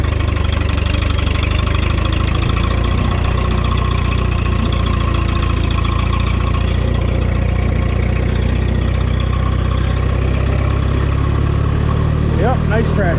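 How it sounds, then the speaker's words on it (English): A tractor engine idles loud and close with a steady low rumble and a rhythmic knock, and voices talk faintly over it. "Yep, nice tractor."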